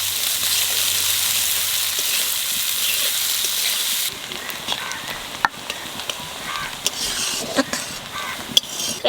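Onions dropped into hot oil with cumin, bay leaf, cloves, cinnamon and cardamom. A steady sizzle switches to a crackling, spattering fry with scattered pops and clicks, heard alone.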